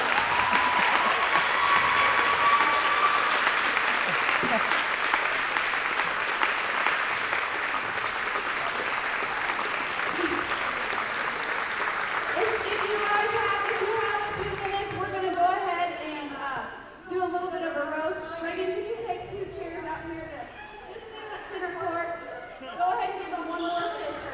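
A gym audience at a JV/varsity girls basketball game between Morristown and North Decatur applauds loudly for two players; the sustained clapping fades partway through, leaving ball bounces and squeaking shoes on the court.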